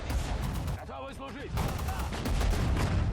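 A BT-7 tank fires during a winter battle in Sudden Strike 4, heavy booming shots and explosions rumbling close and loud, with game sound effects layered over the blasts.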